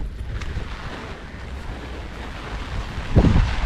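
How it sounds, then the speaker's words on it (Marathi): Heavy rain pours outdoors beside the Pavana river at Pavana Nagar near the Pavana dam, Pune, a steady close broadband wash that swells into a louder rush just before the end, with no talking. "हो पुन्हा जोरदार पाऊस चालू झाला आहे"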